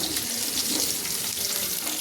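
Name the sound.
drumstick pieces added to frying potatoes in hot oil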